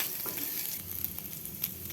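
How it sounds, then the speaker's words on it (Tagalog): Ground meat sautés with ginger, garlic and onion in a pan, giving a soft, steady sizzle and light crackle at low volume with faint stirring noises throughout. "nagigisa tayong giniling sa luya, bawang at sibuyas"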